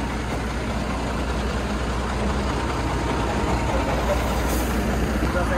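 A loaded goods truck on a Mumbai-to-Delhi run sits with its heavy diesel engine idling, a steady deep rumble that stays constant throughout, close and unbroken.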